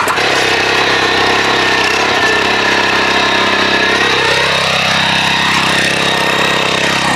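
Steady, loud engine drone of a small-blade rotary tiller digging soil 8 to 10 inches deep and breaking up buried bricks, running continuously near the listener with a pitch that shifts midway as the load changes.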